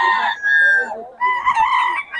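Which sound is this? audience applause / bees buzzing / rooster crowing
rooster crowing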